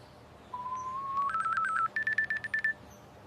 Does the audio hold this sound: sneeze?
no